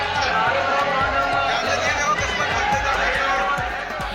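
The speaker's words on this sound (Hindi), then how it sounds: "मंदिर में अपार भीड़ उमड़ी है।" Dense crowd of Holi devotees at Banke Bihari temple in Vrindavan, a continuous loud roar of voices and bustle with a steady rhythmic thumping underneath, filling the whole stretch without a break.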